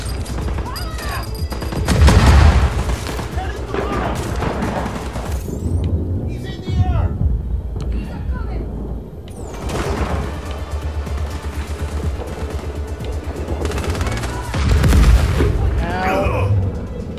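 Gunfire rings out in the Just Cause 4 video game, with repeated loud bursts and booms between stretches of busy game sound. Voices speak in parts of the clip.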